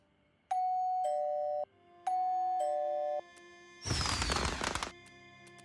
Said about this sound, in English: Fireworks, doorbell.